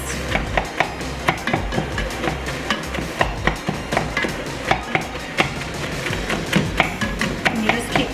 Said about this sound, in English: you just keep chopping it up so that your meat gets chopped finely chopped.